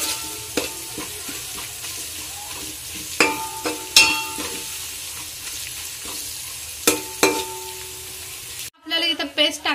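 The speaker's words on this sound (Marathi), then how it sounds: "आपला मसाला असा मस्त आपण तेलामध्ये छान असा परतून घ्यायचा आहे" Ginger-garlic paste masala frying in oil for a dhaba-style mix veg Kolhapuri, a steady sizzle broken by loud spatula knocks and scrapes against the pan, ending in a brief burst of different noise.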